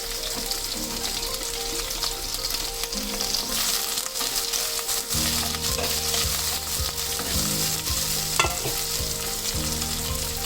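Chopped onions frying in hot oil with spluttered cumin seeds give a steady, close, crackling sizzle throughout, with bursts of louder spitting and scraping stirs partway through.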